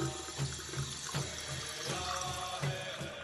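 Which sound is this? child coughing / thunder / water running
water running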